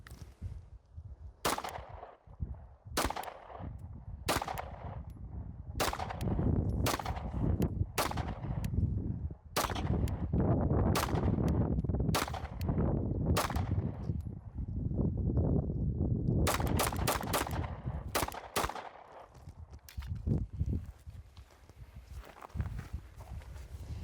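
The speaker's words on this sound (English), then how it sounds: "I'm going to shoot square target, Elroy, square target." Rapid strings of sharp pistol shots from a CZ Shadow 2 fired at square targets during a transition drill, loud and close, with short pauses between bursts and no talk.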